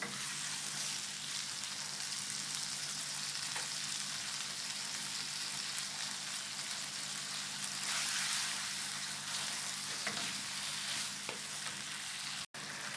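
Skewered chicken satay sizzling on a non-stick teflon pan, a steady, even frying hiss that carries on without a break and with no talking.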